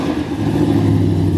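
A cammed Hemi Ram pickup with a ported 6.4 intake manifold fires up, settling into a loud, choppy low-pitched idle with a lumpy rhythmic pulse close by.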